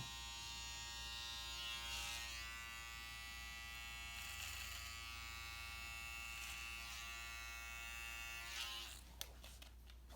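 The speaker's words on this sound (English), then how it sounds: "I like to use the comb and the clipper" Electric hair clippers trim a man's eyebrows over a comb with a steady close electric buzz and faint snipping changes, ending in a few clicks.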